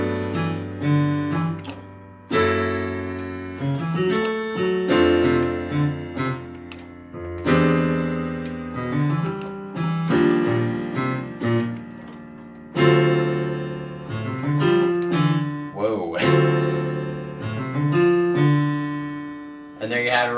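Piano chords of a song played at a moderately quick tempo, full harmonic voicings struck in rhythmic groups with short pauses between phrases, close and clear with no talking.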